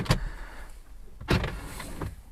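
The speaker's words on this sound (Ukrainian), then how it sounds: "Це бардачок як вилазить, покажи людям" Glove box of a Renault Kadjar or Grand Scenic sliding open and shut, two sharp close clunks with a soft mechanical slide between them, heard alone in a quiet cabin.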